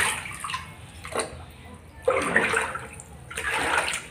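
Floodwater surges and rushes along a house corridor beside a bathroom in Silchar, Assam, coming in swelling splashy waves with brief lulls between them.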